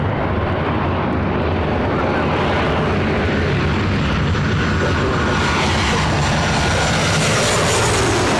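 An airliner takes off from the north side runways at LAX, a loud, steady broadband engine roar that builds and holds over several seconds with no one talking.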